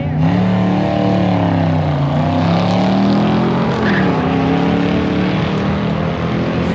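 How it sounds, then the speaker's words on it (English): Red C2 Corvette Roadster in the 14-0 class drag racing down the strip, a loud continuous engine roar with shifting pitch as it pulls hard past, no talk. "14-0 class in that super nice Corvette."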